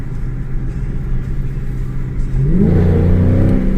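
A car engine hums steadily, then revs upward with a rising whine as it fails to catch second gear, loud and close, with no talking.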